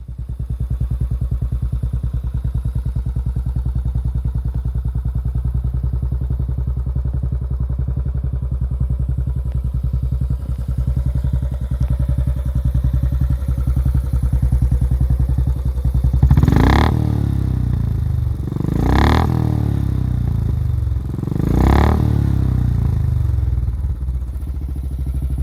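A modified Royal Enfield Bullet single-cylinder engine thumps at a steady, lumpy idle up close, then three sharp throttle blips rev it up and drop back to idle.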